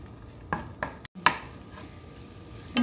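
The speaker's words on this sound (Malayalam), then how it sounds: "ഇനി നമുക്ക് മുന്തിരി ഒന്ന് വറുത്തെടുക്കാം." Raisins fry in ghee in a pan on the stove for a Kerala sweet flattened-rice snack, with a faint steady sizzle broken by a few sharp stirring clicks and scrapes.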